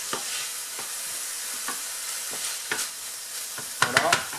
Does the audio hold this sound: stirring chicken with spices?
yes